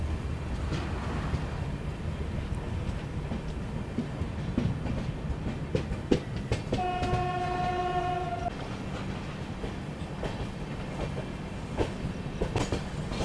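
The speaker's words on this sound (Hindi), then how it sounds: "हमारी ट्रेन का यहाँ से प्रस्थान हो चुका है।" The 20414 Kashi Mahakal Express departs Sultanpur Junction toward Varanasi with a rumbling, clattering run, and a long horn blast sounds midway over the steady roll of the wheels.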